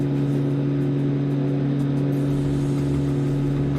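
Aircraft engines throttled down to almost nothing in Microsoft Flight Simulator, heard from toward the back of the aircraft as a steady, loud droning hum with a constant low tone and no speech.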